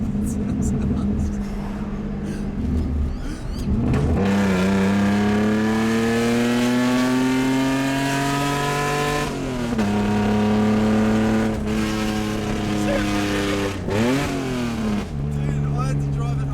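Holden VL with extractors and a 2.5-inch straight pipe, no cat and no mufflers, revving hard and raw in repeated surges that climb in pitch, drop back and climb again, with low talk now and then between revs.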